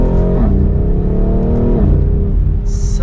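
A 2024 BMW X3 M Competition engine pulls hard in second gear, loud and close, its tone climbing in pitch in stepped surges with brief dips between them.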